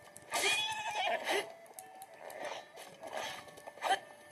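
A horse whinnies in The Legend of Zelda: Breath of the Wild, several breathy neighs close and fairly loud, with quieter snorts between them and no talking.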